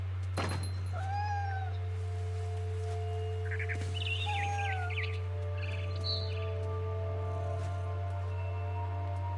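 A cat in the video game What Remains of Edith Finch gives several rising meows and yowls close by, with a few bird chirps over a steady low hum.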